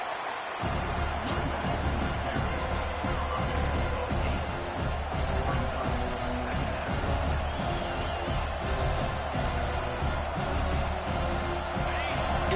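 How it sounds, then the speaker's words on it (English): A fired-up stadium crowd in the NCAA 25 college football video game roars in a dense, continuous wall of noise that stays loud and steady for the whole stretch, with no talk over it. "this crowd is fired up. Listen to this noise here"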